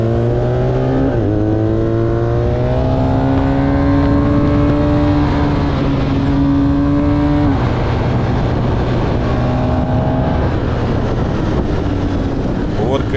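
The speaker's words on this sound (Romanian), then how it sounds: "Și mai ales cum se aude, e adevărat că are Toba Krapovici motocicleta asta de test" A 2023 BMW R1250R boxer motorcycle with an Akrapovic exhaust accelerates hard on a track, its engine note climbing through gears in repeated rising sweeps, loud and close, with a voice talking over it.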